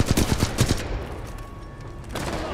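Gunfire in the video game Titanfall 2 bursts in several rapid shots during the first second, then gives way to quieter game ambience, with another short burst near the end.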